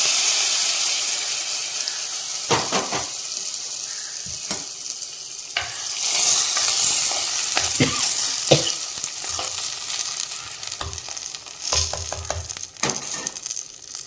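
A spoon stirs a sizzling tempering into mashed thudupu greens in a pan, a continuous frying crackle with repeated scraping strokes, close and fairly loud, with no speech.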